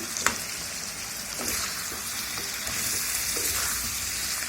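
Potato pieces frying in a pan alongside meat, a continuous close sizzle and hiss with a few soft stirring scrapes, no talk.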